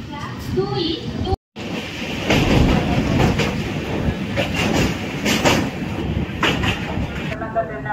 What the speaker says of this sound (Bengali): ট্রেন আমাদের ঢুকে গেল কটক জংশনে